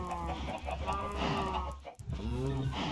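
Minecraft chickens cluck in the video game, a run of soft, close clucks and short calls with a brief gap near the end, heard alone without speech.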